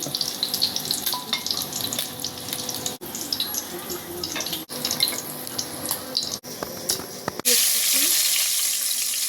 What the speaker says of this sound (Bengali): পরে ডিম ভাজা হয়ে গেছে মুই এক পিস করে ডিম করে নিতেছি